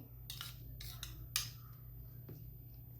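A spoon scrapes and clinks against a bowl while grated radish and carrot salad is mixed, a few quick close scraping strokes over a low steady hum.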